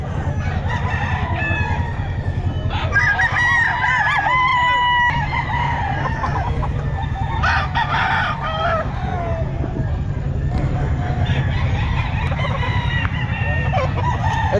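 Roosters crowing and chickens clucking at the Bocaue pet market, repeated crows overlapping from several birds amid continuous clucking and market bustle, fairly close and busy throughout.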